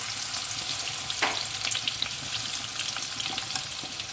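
Small anchovies deep-fry in a pan of hot oil, giving a steady close bubbling sizzle with faint stirring clicks and one brief sharper crackle.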